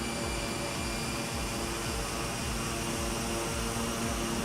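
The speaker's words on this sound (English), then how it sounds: "Oh, there's a jet there." Jet aircraft passing overhead, a steady loud roar with a broad whine that persists throughout, no talk over it.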